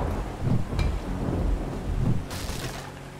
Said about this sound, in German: Alter, hier donnert's